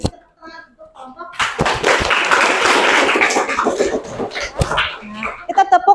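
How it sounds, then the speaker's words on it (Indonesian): A classroom of students claps for a student group after its presentation, dense sustained applause swelling after a quiet start, with a few scattered claps and voices at the end. "Kita beri tepuk tangan untuk kelompok."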